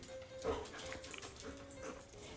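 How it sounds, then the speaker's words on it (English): A dog, apparently named George, gives a few faint yips and whimpers indoors during a morning craft session, with someone talking over them. "No barking, guys."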